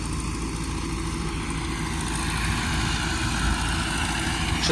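Tractor engine, an MTZ or Zetor working a mower in a field, drones steadily and loudly throughout with an even low rumble and constant mechanical hum, no voices.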